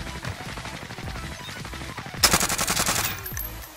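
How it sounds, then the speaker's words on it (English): Automatic gunfire in a multiplayer shooter video game match, a sharp burst of rapid rounds that erupts mid-clip and continues for about a second, loud over quieter game sounds earlier. "He's getting shot from somebody else."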